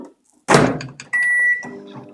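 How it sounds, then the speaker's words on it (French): Microwave oven heating almond milk in a home kitchen: a loud thunk as the door shuts, followed by a steady electronic beep tone, then the low hum of the oven starting to run. "1 minute au micro-ondes."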